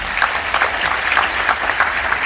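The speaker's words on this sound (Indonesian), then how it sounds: "Pak Prabowo, kita kasih tepuk tangan dulu dong untuk Pak Mahfud." Steady applause from a studio audience at an Indonesian political talk show with the 2024 presidential candidates, a dense even wash of clapping throughout.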